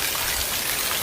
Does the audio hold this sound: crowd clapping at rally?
no